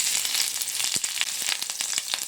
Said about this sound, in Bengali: ওই তেলের মধ্যে দিয়ে দেব কুচিয়ে রাখা কাঁচা লঙ্কা